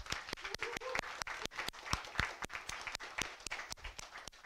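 Audience at a Security Espresso security meetup gives a round of applause for the speakers, with steady, dense clapping from a sizeable crowd filling the room throughout, with no voices heard.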